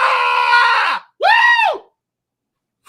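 A person screams loudly at close range in two long, strained bursts separated by a brief gap, followed by silence and the start of another cry.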